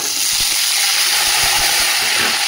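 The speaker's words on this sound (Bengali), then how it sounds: "তাহলে আলুটা ভাজা হোক" Potato pieces frying in hot oil after a bay-leaf tempering, giving a steady, loud broadband sizzle and hiss that runs unbroken throughout, with a few low thumps beneath.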